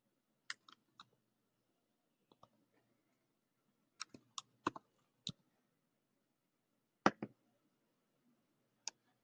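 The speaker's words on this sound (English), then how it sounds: "You can type your name here." Computer keyboard keys tapped in short scattered bursts of crisp clicks, with quiet pauses between groups, close and fairly quiet against near silence.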